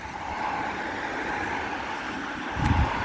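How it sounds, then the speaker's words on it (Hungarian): A small Mercedes city minibus pulling away on a suburban road, a moderate engine drone with road noise and a brief louder low rumble near the end, no talk. "El is megy a mi kis aranyos buszunk, kis Mercedes Reform S City Max City"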